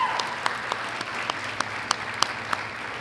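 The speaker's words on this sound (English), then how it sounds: "Can we give them another round of applause," Audience at a live speaking event applauds steadily, a continuous wash of hand claps with a few sharper claps standing out, moderately loud and without voices.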